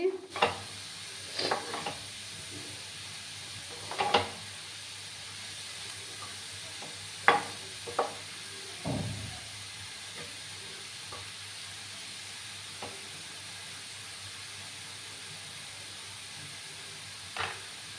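Grated bottle gourd frying in a pan for a sweet payesh, a low steady sizzle under scattered scrapes and knocks of a spoon stirring every few seconds, close but fairly quiet, with no talking.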